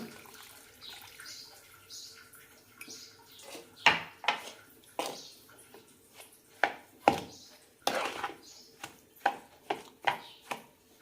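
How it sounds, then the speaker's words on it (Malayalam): Water poured into a bowl of broken wheat rava to soak, faint splashing and trickling interrupted by clinks and knocks of a cup and bowl, close and quiet with no talk. "രണ്ട് കപ്പ് വെള്ളം ഒഴിച്ച് കുതിർത്താം"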